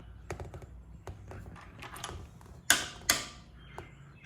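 Torque wrench set to 29 foot-pounds tightening a motorcycle axle on a 1974 Honda CL125s, with two sharp, close clicks near the middle of the clip after a run of small ticking and handling noises.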